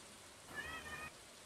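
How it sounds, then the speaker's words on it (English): A cat in the farming game Stardew Valley gives a single short, faint meow that stands out briefly over a soft background hiss. "Is that your cat? Did you hear him?"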